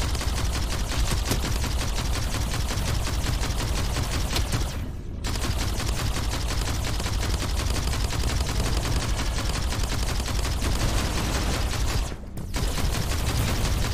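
A grenade launcher in the game Armored Head fires in a dense, continuous barrage. Rapid mechanical bursts run for many seconds, broken by two brief pauses.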